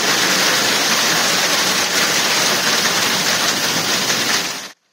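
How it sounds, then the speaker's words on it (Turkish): Heavy evening downpour in town, a dense, loud, unbroken roar of rain hitting surfaces that continues evenly until it cuts off abruptly at the end. "Kente akşam saatlerinde başlayan sağanak yağış olumsuzlukları da beraberinde getirdi."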